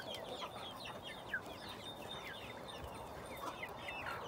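Brahma chickens in their coop on a Denizli farm give faint, scattered clucks and chirps in the evening over a soft, steady background. The calls are quiet and come from a little distance.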